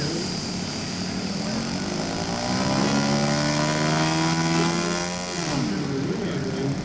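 Scale model of the Chinese version of the Tu-4 bomber flying overhead at an aircraft show, a steady multi-engine propeller drone that swells and shifts pitch as it passes, with faint voices beneath.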